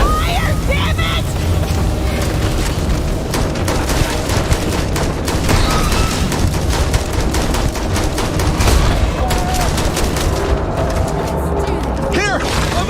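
Rapid in-game gunfire in the space game Starfield, sustained loud bursts and blasts layered over a dense battle mix, with voices shouting throughout.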